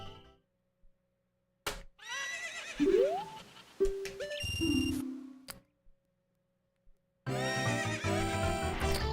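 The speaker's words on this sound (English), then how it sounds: "Dumb horse." Horse neighs in The Legend of Zelda: Ocarina of Time, bright synthesized whinnies with rising and falling pitch, mixed with short game sound effects, separated by silent gaps and ending in a dense burst of game sound.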